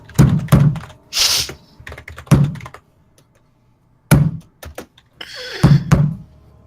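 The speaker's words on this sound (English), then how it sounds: "Just banging on that door." Heavy thumps bang against a door in irregular bursts, loud and close, with pauses of near silence between clusters of blows and a scraping sound mixed in.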